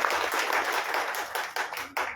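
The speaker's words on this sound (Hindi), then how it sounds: "एक बार जोरदार तालियां सभी के लिए।" An audience at an international Hindi convention claps steadily, a thick continuous patter of many hands with a few brief dips near the end.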